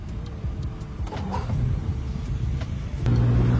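A 1958 Jaguar XK150 SE cabriolet engine runs steadily after starting, a continuous low mechanical rumble that swells slightly near the end, with no talking.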